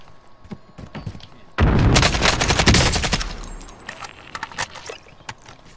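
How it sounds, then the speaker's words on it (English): Video game gunfire erupts suddenly as a loud, dense burst of rapid shots and blasts lasting a couple of seconds, then tapers into scattered single cracks and softer clatter nearby. "Yeah, I'm shooting enemies right here"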